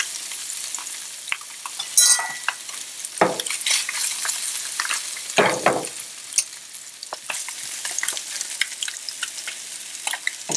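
A fish fillet fries in a pan for grilled fish with spicy tomato gravy, giving an uneven crackling sizzle with sharp spits and bursts of spatula stirring, close and fairly loud, with no talking.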